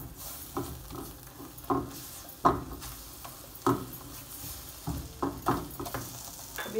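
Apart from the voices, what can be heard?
chicken mixture being stirred in a sizzling pan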